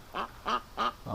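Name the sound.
ducks calling at the creek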